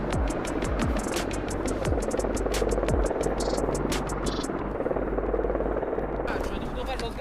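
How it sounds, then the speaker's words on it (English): An Italian military helicopter approaches in an Arctic clearing in Norway, its loud, steady rotor throb and whine filling the scene continuously while voices talk faintly over the engine. "Helicopters are coming."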